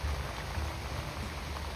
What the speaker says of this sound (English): It is drizzling just a little bit out here